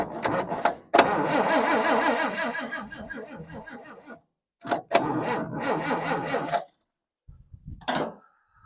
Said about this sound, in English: that starter's not too happy right now